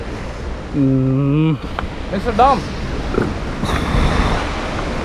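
Rushing water at Athirapally waterfall in Kerala makes a steady, loud roar throughout, while people talk over it.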